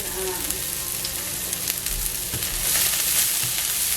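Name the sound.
food cooking in a pan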